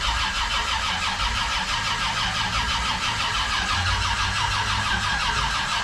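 An old car's cold engine, long left sitting, turns over and catches, then runs loud and steady with a rough mid-range idle and a constant broadband roar throughout.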